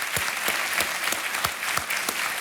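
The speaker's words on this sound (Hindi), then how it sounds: "तालियों के साथ हम इनका अभिनंदन करते हैं" A studio audience on the KBC (Kaun Banega Crorepati) season 10 set breaks into steady, full applause: dense clapping from many hands, sustained and even throughout, with no voices over it.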